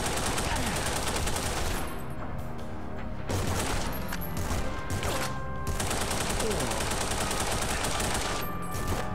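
Dual Uzis blaze in The Punisher video game on the original Xbox, with rapid, dense bursts of automatic fire in several long volleys separated by brief pauses, loud and close.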